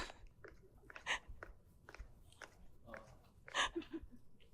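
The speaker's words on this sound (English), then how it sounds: "He is munching." Close, quiet crunching and wet chewing as a tiny dachshund munches food, irregular bites separated by brief pauses, with faint breathing.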